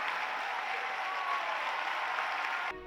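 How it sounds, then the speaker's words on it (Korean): Cheering and sustained applause from a concert audience after an opera aria performance, a dense steady wash of clapping that holds evenly, then drops off abruptly near the end. "매곡마다 관객들의 뜨거운 환호와 박수 갈채를 받았습니다"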